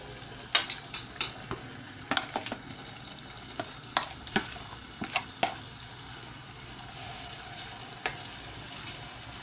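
Onions frying in oil in a pot for koshari, a steady sizzle broken by sharp scraping knocks of a spoon stirring against the pan, close and with no talking.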